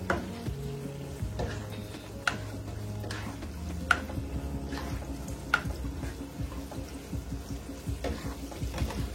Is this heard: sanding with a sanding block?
no